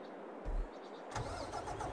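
A MAN truck engine in Farming Simulator 22 cranks and catches, with a low rumble swelling twice, then settles into a steady idle alone.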